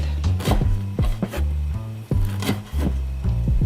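Vegetables chopped for yubu japchae with a knife on a wooden cutting board, a steady series of loud, close thuds in an even rhythm with no talking.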